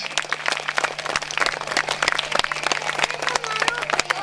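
Audience applause at a 2013 event in Turňa nad Bodvou, a steady patter of many hands clapping for a few seconds, fairly close and full, with a low hum running underneath.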